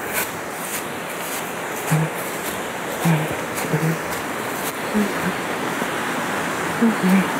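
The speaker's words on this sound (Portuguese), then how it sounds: "chegamos ao nosso destino, a Cachoeira do Paulo André." Steady broadband rush of water at the Cachoeira do Paulo André waterfall, a continuous mid-distance roar with no clear breaks, and a few faint low thumps scattered through it.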